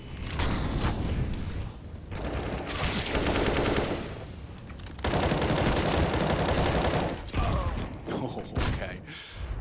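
Counter-Strike: Global Offensive pro match on Inferno at IEM Cologne 2021, Natus Vincere vs. Astralis: loud bursts of rapid automatic gunfire and grenade blasts come in waves with brief gaps, with a voice talking over them.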